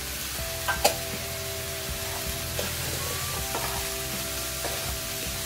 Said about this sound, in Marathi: मिक्सचर सर्व भाज्या तेलामध्ये व्यवस्थित परतून घ्यायच्या